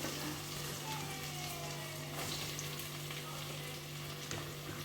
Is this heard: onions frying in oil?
yes